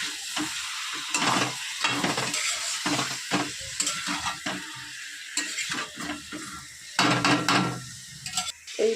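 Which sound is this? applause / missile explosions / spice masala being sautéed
spice masala being sautéed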